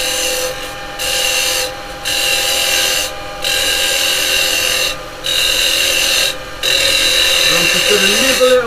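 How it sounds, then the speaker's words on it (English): A carbide detail chisel cuts a side-grain pen pot spinning on a wood lathe, giving a steady loud rasping scrape with brief breaks as the tool lifts and re-engages. "I think I'm going to use the Carbide detail chisel."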